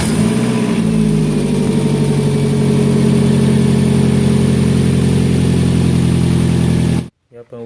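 A Nissan Altima engine, just back together after a valve cover gasket job, fires up and settles into a loud, steady idle close to the microphone, running continuously before cutting off abruptly.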